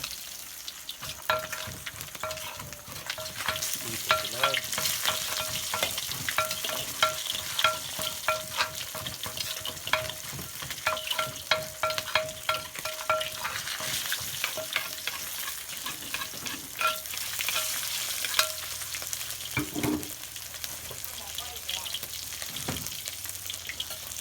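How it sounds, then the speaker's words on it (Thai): Sun-dried fish frying in a pan until crisp, a continuous close sizzle and crackle with steady spitting oil and occasional scraping knocks, lasting throughout without talk. "ทอดปลาแดดเดียวต้องทอดกรอบครับ"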